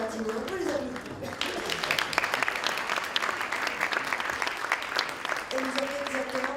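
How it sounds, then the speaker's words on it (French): Steady applause from a conference audience in Monaco runs the whole stretch, with a speaker's voice heard over it near the start and again at the end. "On peut les applaudir."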